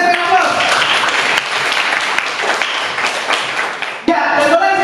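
A classroom breaks into applause, a dense steady patter of many hands clapping for several seconds before a teacher's voice resumes.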